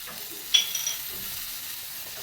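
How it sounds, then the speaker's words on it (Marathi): Chutney seasoned with salt and lemon juice being stirred and sautéed in a pan over medium gas, a low sizzle with a brief clink of the spoon. "आणि ही चटणी मीडियम गॅसवर दोन मिनिट अशी सतत एकसारखी हलवत राहून परतून घ्यायची आहे"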